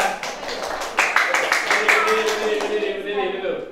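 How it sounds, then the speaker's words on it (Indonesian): A group of teachers in a classroom session at Universitas Kanjuruhan claps quickly together for several seconds, brisk close hand strikes that thin out toward the end while voices talk over them. "Tepuk tangan dulu. Tepuk tangan yang keras."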